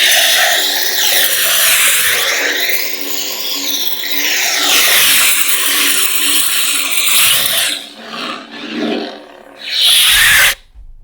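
Neopixel lightsaber blade lock-up effect from a sound-font board, a loud, sustained crackling, sizzling buzz that surges and wavers for several seconds, then drops out briefly before a final harsh burst near the end.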